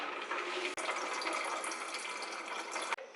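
A water bottle being filled from a tap in a home kitchen, with a steady broadband rush of running water lasting the whole stretch, close and fairly loud, broken by two brief dips where the flow is interrupted.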